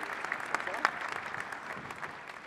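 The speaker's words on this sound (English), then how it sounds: "please, a round of applause for our panelists again, for Larry, for Mayor Plante" Audience applause for conference panelists at a transportation and cities event, a soft, steady patter of clapping from a seated crowd heard at a distance.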